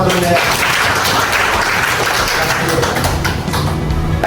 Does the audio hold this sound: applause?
yes